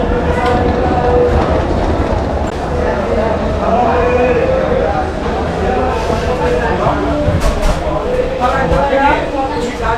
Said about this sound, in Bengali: আমরা অলরেডি শিয়ালদা স্টেশনে পৌঁছে গেছি।